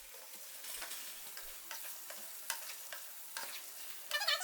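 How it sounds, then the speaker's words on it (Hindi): A spoon stirs butter into yogurt chicken in a hot pan, giving a soft, steady sizzle with light scraping strokes and a slightly louder stir near the end, no voices. "बटर डाल के आपने इतनी देर चम्मच चलाना है कि बटर अच्छी तरह से इसमें पिघल जाए।"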